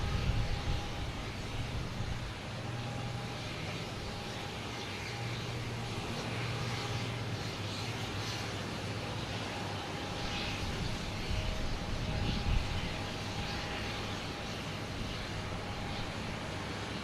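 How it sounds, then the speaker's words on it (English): A JetBlue Airbus A321 takes off at Boston Logan Airport, a steady broad jet engine roar heard from a distance, sustained and even for the whole stretch. "next takeoff, we have JetBlue. A321 heading to San Diego."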